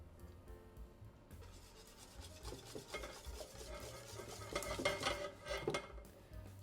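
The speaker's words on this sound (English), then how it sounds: "Gradually pour syrup mixture into eggs mixture." A utensil scrapes and stirs against a bowl as hot syrup is folded into beaten eggs, with uneven scratchy strokes that swell louder toward the end.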